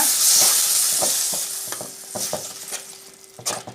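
Ground tomato paste made from four tomatoes sizzles in a frying pan for a soya kola urundai kuzhambu, with steady hiss and a few stirring scrapes and clinks, close and fairly loud, with no talking.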